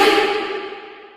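A reversed sample drenched in fully wet reverb gives a sustained, washy tonal tail that fades steadily away over about a second, with no voice over it.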